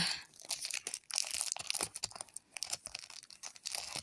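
Brawl Stars card pack wrapper being torn open, close crinkly foil rips and crumpling in quick irregular bursts with brief pauses.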